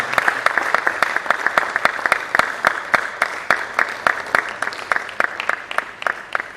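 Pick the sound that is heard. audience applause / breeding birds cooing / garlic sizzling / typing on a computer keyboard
audience applause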